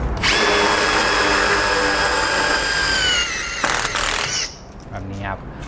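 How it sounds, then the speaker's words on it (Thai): Impact driver with a Japanese ONISHI bit boring into a concrete block wall, a loud steady high whine grinding continuously for about four seconds before cutting off, followed by faint scraping and a brief murmur of talk. "อันนี้คือเจาะตรงตำแหน่งที่เป็นอิฐมอน"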